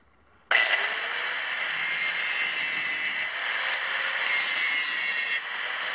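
Grinding the pins on a Timberking 1400 sawmill's vertical log stops, a loud, steady, high-pitched whine that starts abruptly and holds evenly for several seconds with no talking.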